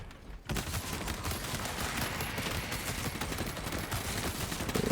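Rapid, sustained automatic gunfire from the game Space Marine 2 with the Astartes mod, a dense close-up stream of shots starting abruptly after a short quiet moment and hammering on without pause.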